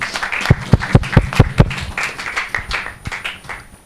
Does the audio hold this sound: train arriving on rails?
no